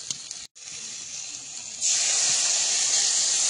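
Water poured into a hot pan of crab, potato and Malabar spinach sets off a loud, steady hiss that briefly drops out, then swells louder and holds before stopping.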